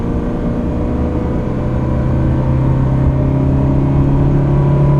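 A 2004 Ferrari 360 Modena with a six-speed gated manual and factory racing exhaust drones steadily and loudly from inside the cabin, its engine hum holding even through a gear change with no voices.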